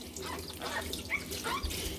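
Hot water runs over a rubber windshield wiper blade being cleaned, a close, uneven splashing trickle with scattered drips.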